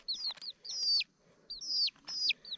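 A black hen and black chick outdoors give bright, high peeping calls in quick repeated bursts, close and clear over a quiet background, with no talking.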